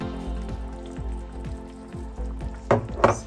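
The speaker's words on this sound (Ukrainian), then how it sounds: "Зараз в нас куриця закипить у кокосовому молоці" Chicken with onion simmering in coconut milk for a Thai red curry: a soft, steady bubbling with regular low pops, then two brief louder clatters near the end.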